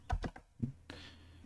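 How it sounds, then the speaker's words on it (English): Computer keyboard typing comes as a few quick, close key clicks in a short burst, followed by a softer tap and faint room noise. "Monday morning typing."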